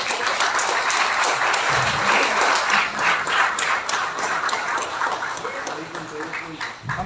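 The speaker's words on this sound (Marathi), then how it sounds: "एकदा जोरदार सगळ्यांनी टाळ्या वाजवायच्या." An audience gives sustained, loud applause at a felicitation ceremony honouring a UPSC exam aspirant, with dense clapping filling the whole stretch before it slowly thins.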